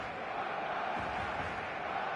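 Steady roar of a full stadium crowd in eFootball 2026, a continuous dense wash of voices and cheering with no breaks, heard close and loud throughout.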